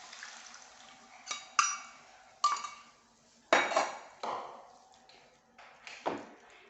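Chicken bun filling being stirred in a pan: a series of separate close scrapes and metallic clinks of a spoon against the pan, spaced about a second apart, over a quiet background.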